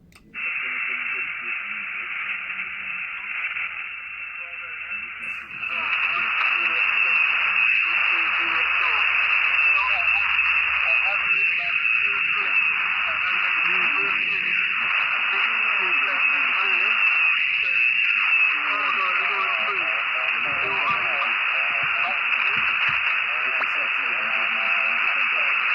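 Weak ham radio transmission picked up at an Easter field radio operation, a continuous band-limited hiss and static with faint, garbled voices fading in and out beneath the noise throughout.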